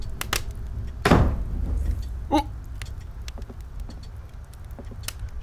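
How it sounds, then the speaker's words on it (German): A heavy door slams shut with a sharp bang and a rumbling decay in the horror game The Nightfall. Scattered clicks and a lighter knock follow. "eine Tür zugeflogen"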